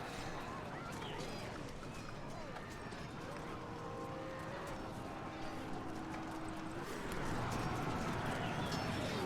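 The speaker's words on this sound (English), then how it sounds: "these horse archer types." Galloping hooves of mounted horse archers in the Medieval: Total War battle game rumble as a dense, continuous mass of hoofbeats, faint and distant, growing heavier near the end.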